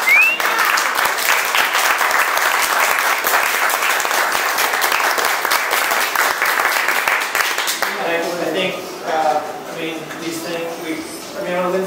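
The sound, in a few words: audience applause at a meeting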